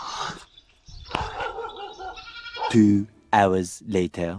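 Goats bleat in a few wavering, quavering calls close by, following some indistinct talk and rustling.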